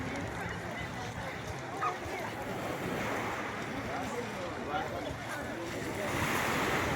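Sea waves wash onto Vardane beach near Sochi on a warm summer evening, a steady close rush of surf with wind buffeting the microphone throughout and no clear speech.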